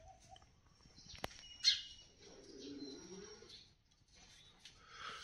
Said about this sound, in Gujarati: આપણા ફળિયામાં સુંદર મજાની ચકલી આવી છે